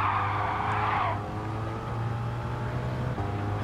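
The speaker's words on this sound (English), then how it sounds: "just something about drifting before getting onto that bridge" A car drifts and skids in a racing video game at Grand Valley, a loud tire screech for about a second easing into a steady engine drone that continues alone.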